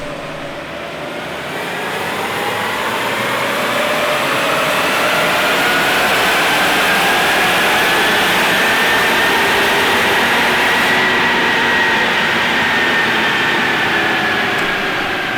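A Ford Bronco Sport engine runs hard on a chassis dyno, a loud continuous roar with a rising whine that climbs steadily through the run and holds near full volume to the end, with no talk over it.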